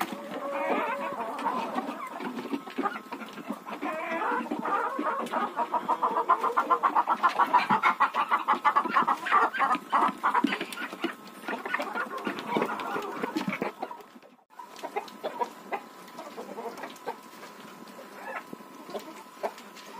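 Farmyard chickens cluck busily and continuously up close after being given treats, a dense chorus of clucks that thins out briefly before resuming more sparsely.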